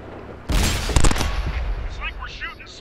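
Heavy tank cannon blasts in World of Tanks, a loud broadband boom with a second shot close behind, the rumble and debris trailing off under faint chirpy effects.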